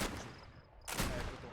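Musket volley fire in a line-battle video game, a dense crackling burst of many shots at once, followed by a brief lull and a second ragged volley, loud and close.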